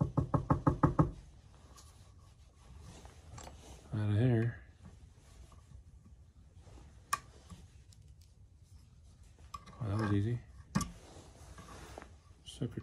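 A quick burst of about five sharp knocks hits a knife handle to drive out old glue, followed by scattered clicks and taps and a couple of brief louder scraping bursts in a workshop.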